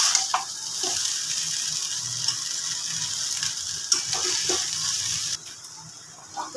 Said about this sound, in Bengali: এবার এটাকে খুব ভালো করে মিক্সড করে নেব।